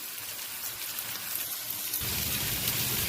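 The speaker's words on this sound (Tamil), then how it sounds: "இப்போ இது ஃப்ரை ஆகிருக்கு. லோ ஃப்ளேமில் வச்சு இதை நம்ம பண்ணுறோம்." Tandoori chicken frying in butter over a low flame, a steady, dense sizzle like light rain that grows louder and fuller partway through, with no talking.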